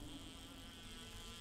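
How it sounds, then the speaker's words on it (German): Faint, steady insect buzzing in the survival game 7 Days to Die, a thin continuous drone with no breaks, low in level and alone. "Ich höre schon summen."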